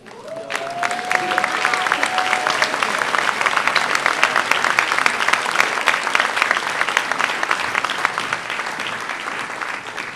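Steady, sustained applause from an audience at a high school senior awards night, dense clapping holding evenly throughout at moderate distance.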